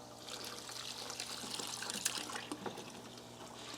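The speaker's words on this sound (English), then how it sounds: "So we have a water pump pumping water, and this causes a waterfall effect." A water pump feeds a small waterfall in an aeration setup for a tea-bag system, giving a quiet, steady trickle and splash with faint pump hum underneath, no voices.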